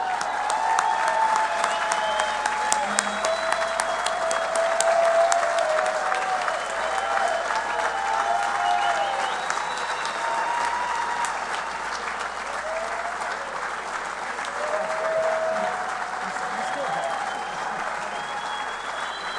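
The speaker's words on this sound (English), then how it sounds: "please give a big round of applause for a man that in surfing and paddling defines the term legend, Jerry Lopez." Sustained applause from a large audience at a stand-up paddleboard awards ceremony, steady and enthusiastic, with faint whoops and cheers scattered through it.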